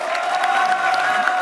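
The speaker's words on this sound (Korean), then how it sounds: "박수 부탁드리겠습니다" An audience at a talk concert on the high school credit system gives loud, steady applause with some cheering, a brief dense burst of clapping close by.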